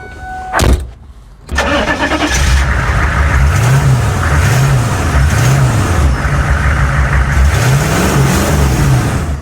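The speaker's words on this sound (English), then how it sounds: "I'm gonna start it and you can hear the sound of this amazing" A Hummer H1 engine cranks and catches, then settles into a loud, close rumbling idle with several rhythmic revs rising and falling.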